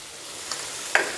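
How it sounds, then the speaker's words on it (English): Vegetables frying in oil with salt in a pan, a soft steady sizzle with two brief utensil scrapes or clicks, close and alone without speech. "now I'm going to let it fry a little bit"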